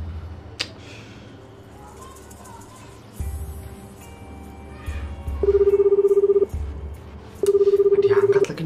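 A phone call goes unanswered: dial tones and keypad beeps, then two long buzzing ring tones repeat at a steady interval, loud and close, with no pickup and no voice.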